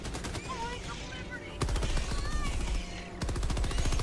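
Turret gunfire in Helldivers 2 hammers out in rapid automatic bursts, close and loud, with two sharp onsets of sustained rattling fire broken by brief pauses and no talking.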